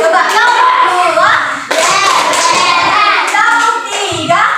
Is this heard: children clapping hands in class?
yes